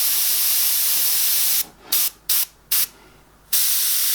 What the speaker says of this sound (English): I'm just running along the stencil lines and smoothing things out.